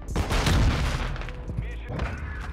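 Rapid gunfire from the video game Modern Warfare 2, dense and loud through the first half, then bursting sporadically with booming shots and chatter-like noise throughout.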